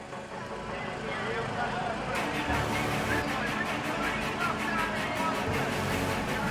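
NSF race motorbike engine push-started, first a low rumble, then the engine catches into a rapid, pulsing mechanical drone that carries on loudly to the end.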